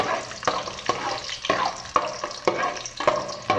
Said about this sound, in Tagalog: mainit na yung ating kaserola na may mantika. Ilagay natin itong ating bawang.